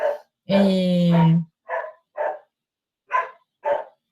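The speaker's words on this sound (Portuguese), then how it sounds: "O cachorro da minha vizinha quer participar da aula." A neighbour's dog barks through an online video-call class: one long whining howl, then several short, sharp barks in pairs, fairly close and loud with quiet gaps between.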